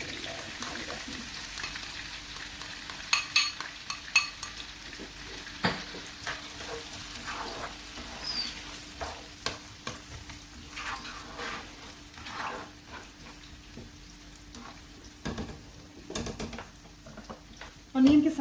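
Onions frying in oil, ghee or butter for daal mash with boiled eggs, a soft steady sizzle with occasional stirring clatter and small knocks, close by and moderately quiet throughout.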